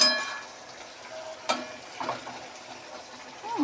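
Spice paste (masala) sautéing in a pan for a potato curry, giving a soft crackling sizzle with scattered stirring scrapes and one sharp clink, close by and fairly quiet.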